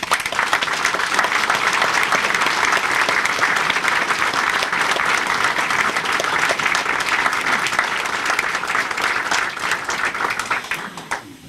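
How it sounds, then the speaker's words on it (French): Audience applause at a Sainte Barbe ceremony in Le Lardin, steady and full from start to finish, a dense wash of many hands clapping that fades out at the very end. "Pour ses 35 ans de service pour la population, on ne peut que t'applaudir"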